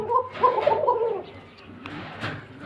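Restless pigeons coo in a quick burst of throaty calls, close by, fading into quieter cooing and faint rustling over a few seconds, with no talking.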